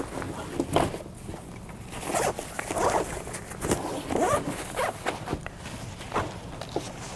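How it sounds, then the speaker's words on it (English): An AMP rifle bag's zipper is pulled open in a series of short rasping runs, close by, mixed with light handling and shuffling noises. "once I can find the zipper"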